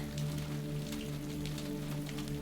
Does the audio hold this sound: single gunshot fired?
no